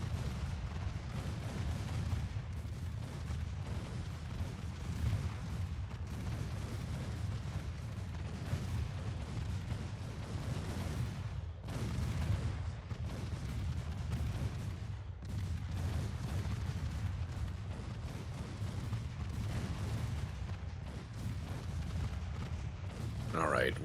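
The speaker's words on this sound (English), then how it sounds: "Those are big guns, but they're very slow firing and quite low velocity." Naval guns fire in the Ultimate Admiral Dreadnoughts warship game as a dense, continuous rumble of booms, with a few sharper gaps and steady low roar throughout.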